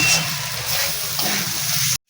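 Water is poured into a pan of fried lentils and vegetables, a steady, fairly loud gushing splash lasting about two seconds before stopping abruptly.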